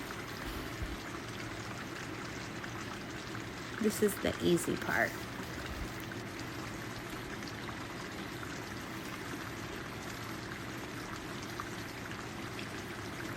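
Water pours over freshly planted garden plants as they are watered in, a steady, soft hiss of running water throughout, with a person speaking briefly partway through.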